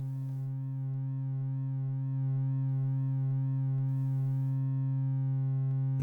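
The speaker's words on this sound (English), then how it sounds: "And if I put it on sine only, then we only get shape modulation for the sine wave." Syntrx II synthesizer holding a steady sine-wave tone with shape modulation applied, a continuous sustained note with a rich stack of harmonics and faint periodic wobble, heard alone with no talking.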